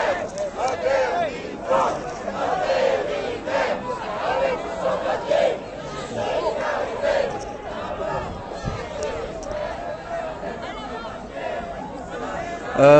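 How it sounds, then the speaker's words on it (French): A large, calm crowd gathers and slowly circles a square at the start of a demonstration, producing a steady murmur of many overlapping voices and chatter throughout, close and continuous without any loud shouts. "Mouvement de foule très calme."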